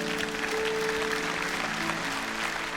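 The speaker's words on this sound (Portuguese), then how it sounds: "Dê uma salva de palmas ao Senhor" A church congregation claps together in a dense, steady wave of applause that fills the room from start to finish, with a faint sustained tone beneath the clapping.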